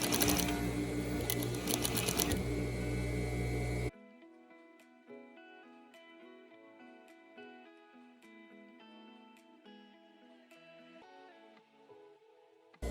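A sewing machine stitches satin bias tape onto a chiffon kimono jacket. It opens with a loud, dense burst of running, then settles into quieter, evenly spaced ticking stitches close by.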